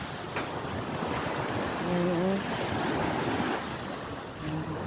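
Ocean waves surge and wash near the shore on a dark, rainy day, a constant roaring rush with wind buffeting the microphone, and someone speaks briefly over it.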